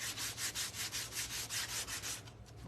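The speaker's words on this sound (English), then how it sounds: "That's the most annoying noise when you're on the phone with somebody, when they're sanding." Rhythmic back-and-forth rasp of sandpaper on a gourd, about a dozen even strokes close up, loud and alone with no talk, tapering at the end.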